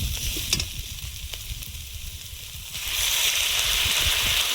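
Bombay duck fish goes into a pan of half-fried onion, green chili and potato, and after a few clatters the frying swells into a loud, steady sizzle.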